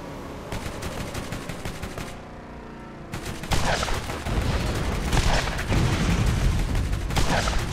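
Video game gunfire in Borderlands, loud rapid bursts of automatic shots and heavy blasts over a vehicle's engine rumble, with a brief lull before dense firing resumes and continues to the end.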